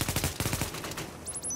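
A rapid burst of video game gunfire from NPCs and the player rattles off in quick succession, then sparser shots fade out, with a brief high electronic chirp at the end.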